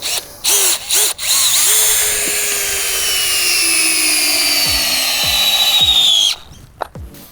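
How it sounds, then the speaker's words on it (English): A power drill drives a hex peg into the ground, whining steadily for several seconds, close and loud, straining slightly toward the end before stopping, with a few short bursts before and after. "The drill struggled a little bit at the bottom there, but that's gone all the way into the ground"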